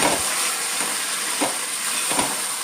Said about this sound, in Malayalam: നെയ്ക്കകത്ത് കിടന്ന് നല്ലവണ്ണം ഒന്ന് നമുക്ക് ഈ നെയ്യൊക്കെ അതൊന്ന് വരട്ടിയെടുക്കണം